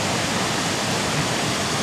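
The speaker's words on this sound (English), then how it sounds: "And there's a waterfall behind the waterfall." Waterfall at Clapham in the Yorkshire Dales, pouring steadily as a dense, loud, continuous roar of rushing water that fills the whole short stretch with no voices.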